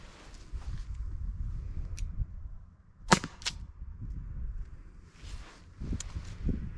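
A Byrna HD launcher fires a single kinetic round with a sharp, loud crack near the middle, followed by a quick second impact-like snap, amid low handling rustle and outdoor noise.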